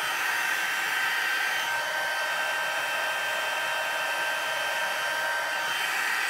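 A heat gun blows steadily while heat embossing a paper card panel, giving a constant, close whooshing hiss with a faint whine that holds at an even level throughout with no speech.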